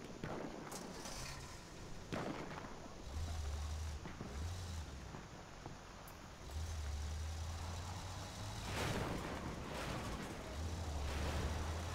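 Vehicle engine in Battlefield 1 on the Sinai Desert map, a low steady rumble running throughout with bursts of distant gunfire and explosions mixed in.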